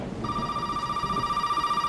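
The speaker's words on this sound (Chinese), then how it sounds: "怎么突然有电话响" A telephone rings inside the horror video game Resident Evil 7, a sustained electronic bell tone that starts abruptly and holds steady over a low ambient rumble, no speech.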